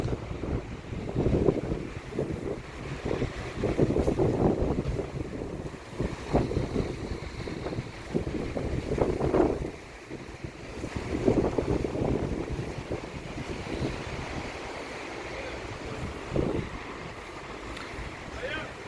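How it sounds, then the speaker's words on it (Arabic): Strong wind gusts after rain buffet the microphone in rumbling surges along a street in Salé, Morocco, rising and falling, with a voice faintly speaking underneath. "كما تشاهدون رياح قوية."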